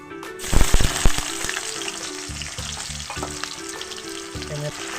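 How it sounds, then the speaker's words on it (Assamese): Onions dropped into hot oil for a fish curry give a sudden loud hiss, then a steady close sizzle with stirring scrapes. "তেল একদম বঢ়িয়া গৰম হৈ গৈছে ধুনীয়া গৰম হৈছে তো ইয়াতে যাব পিঁয়াজ"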